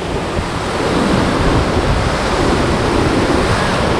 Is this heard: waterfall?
yes